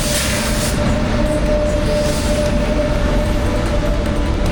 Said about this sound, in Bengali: ট্রেন পেরিয়ে গেল।